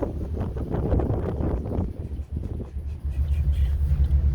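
A 2014 Chevrolet Camaro SS 1LE V8 idling, heard from outside the car, a deep low rumble with wind buffeting the microphone, fairly quiet and smooth.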